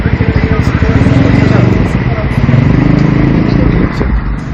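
A motorcycle engine revs and idles on a city street during a live street-busking broadcast, a loud, steady throaty rumble throughout with people talking over it.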